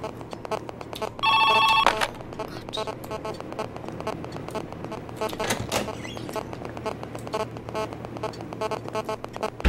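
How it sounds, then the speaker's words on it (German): A mobile phone rings inside the horror video game Joe's Diner: a loud electronic ringtone burst near the start, then repeated tonal chirps over a low hum, with a voice speaking faintly underneath. "Also es ist ein Handy, aber ich habe keine Ahnung wo."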